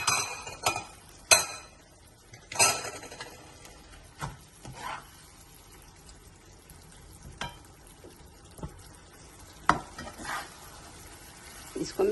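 Ridge gourd curry is stirred in a frying pan: a soft background sizzle under repeated clinks and scrapes of a utensil against the pan, irregular and close.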